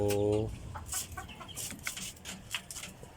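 Native chickens in a backyard pen clucking, with a brief louder call at the start followed by scattered soft clucks and bird noises at moderate distance.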